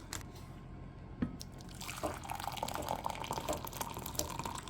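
Hot water poured from a kettle onto freeze-dried tomato basil soup with grilled cheese croutons: a steady close liquid trickle and splash that begins about two seconds in and continues, with faint drips beforehand.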